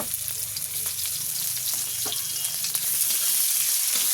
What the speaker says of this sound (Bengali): এবার গোটা গোটা শুকনো লঙ্কা ফোড়নে দিলাম, তারপরে দিলাম পেঁয়াজগুলো